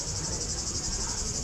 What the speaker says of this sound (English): representations of the sound you're hearing, the cicadas.